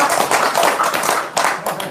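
A brief burst of hand clapping from a small group, quick and uneven, close and loud for a couple of seconds.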